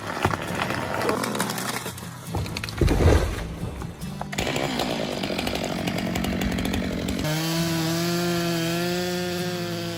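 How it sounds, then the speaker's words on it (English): A Stihl MS-462 chainsaw cuts into a towering 5-foot-diameter hemlock in a forest. The saw buzzes loudly and changes pitch as it bites, with rough wood-rasping bursts before a steadier revving drone. "This experienced logger confidently fells a towering 5-foot diameter hemlock using years of skill and perfect technique."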